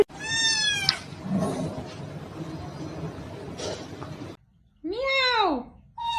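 A kitten gives several loud, high, wavering meows close by, crying out at the start, again near the middle and in a final drawn-out call, with a voice murmuring faintly in between.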